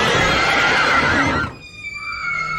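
A horse in a stable gives a loud, close whinny that quavers for over a second, then drops into quieter trailing sounds with faint tonal background.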